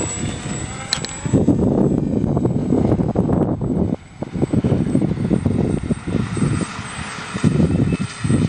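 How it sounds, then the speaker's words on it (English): Electric motors on a SkyEye RC plane spin the propeller, giving a loud, steady whirring buzz close to the microphone with a high whine above it, dipping briefly midway and then returning. "The motors spin the propeller and give us thrust."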